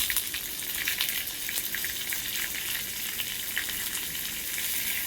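Food sizzles steadily in a hot pan while being stirred, a dense continuous frying hiss with faint scraping throughout, no voices.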